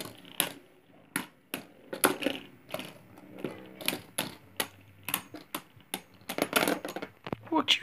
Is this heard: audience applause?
no